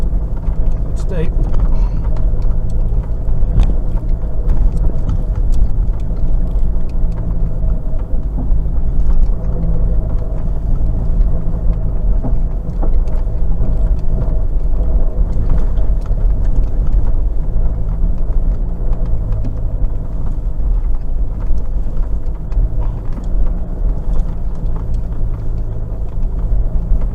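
A 4WD climbs a steep track in low range second gear in the Bendleby Ranges, South Australia, its engine a steady, loud low rumble throughout with voices talking over it.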